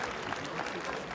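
At the Ukrainian men's boxing championship in Kharkiv, a crowd applauds in a brief, dense burst of steady clapping.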